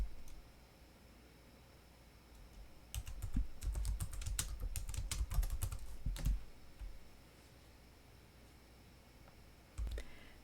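Rapid clicking of a computer keyboard as commands are typed, a dense burst of keystrokes in the middle with a few isolated taps near the end, close and fairly quiet over a faint steady hiss.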